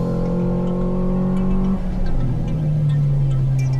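A Ford Fiesta ST fitted with Mountune inlet cams and exhaust races around a circuit on a track day, its engine droning loudly and steadily from close by. The pitch holds, drops as the driver shifts, then settles again.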